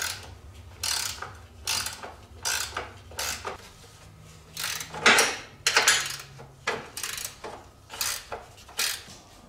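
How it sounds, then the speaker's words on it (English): A hand ratchet tightening the control arm bolts on a Bombardier Can-Am Outlander 400 ATV front suspension, a series of repeated clicking strokes in an uneven rhythm, close and distinct with no talking. "we can go ahead and tighten up the control arm bolts"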